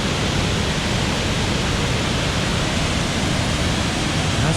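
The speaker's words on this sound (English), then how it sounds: "That's probably the coolest waterfall I've ever been to." Compression Falls, a remote waterfall throwing heavy mist, roars as a steady, dense broadband rush of falling water, loud and close, with no voices over it.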